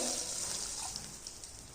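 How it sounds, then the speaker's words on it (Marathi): Water pours steadily from a bowl into a cooking pan for a crisp breakfast snack, a continuous bright splashing close by that gradually tapers off. "एक वाटी आपण पाणी ओतणार आहोत"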